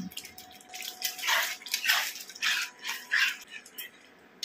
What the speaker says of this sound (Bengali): দইয়ের বাটিটা ধুয়ে একটু জল দিয়ে দিচ্ছি।